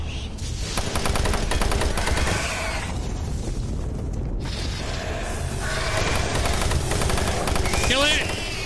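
Rapid weapon fire in the video game Doom 3, dense continuous bursts of loud mechanical gunshots with brief pauses and clattering reload-like sounds, close and dominant throughout.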